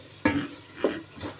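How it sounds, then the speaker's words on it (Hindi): Onions and tomatoes frying in a pan for aloo shorba, with three separate stirring scrapes over a soft, steady sizzle, close and fairly loud, with no voices. "इतनी भुनाई करनी है कि आपके टमाटर नरम होके शोरबा बन जाए।"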